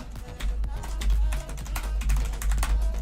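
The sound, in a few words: typing on a computer keyboard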